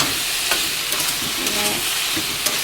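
A paste of ginger, green chilli, onion and garlic fries with spices in a pan, giving a loud, continuous hiss and sizzle with occasional stirring scrapes, close and alone.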